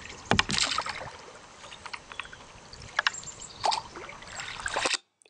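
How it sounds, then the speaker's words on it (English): A kayak paddled on open water, with irregular splashing paddle strokes and drips in uneven bursts, close to the handheld microphone, then an abrupt cut at the end; no talking. "We were on the water kayaking"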